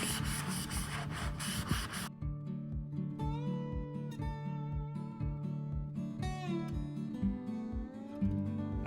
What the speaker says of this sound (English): I have a shop towel here, one of my kids' shop towels. And you just wanna rub that on.